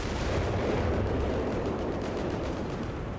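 Double artillery barrage in Company of Heroes 3, a dense, continuous rumble of blasts and booms that stays loud and heavy throughout the short stretch, with no talk over it.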